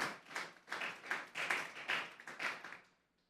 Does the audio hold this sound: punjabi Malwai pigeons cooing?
no